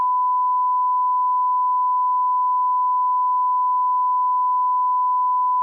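A steady censor bleep, a pure continuous tone held unbroken and loud for several seconds, masking a spoken word on a casual podcast about Liverpool football.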